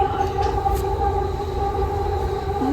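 A Delhi metro train carriage in motion hums with a steady low rumble and a sustained tonal whine, the ride noise continuous and enveloping from inside the car.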